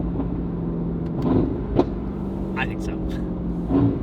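A Mercedes-AMG GT with a full titanium valved exhaust and free-flow downpipes cruising at about 3,000 RPM and 50 mph, a steady low drone from inside the car under people talking.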